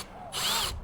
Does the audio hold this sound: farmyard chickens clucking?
no